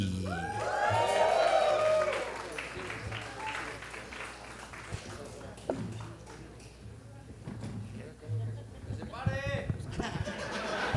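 Live comedy show crowd bursts into loud applause, cheers and whoops as a comedian is welcomed onstage, with an announcer's voice over the noise before the clapping thins and the comedian starts speaking.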